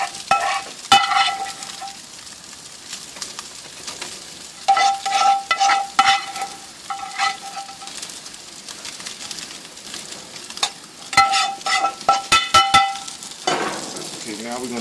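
Burger toppings on a grill give a low, steady sizzle broken by repeated clinks and scrapes of a utensil in uneven bursts, fairly close, with a few bright metallic taps.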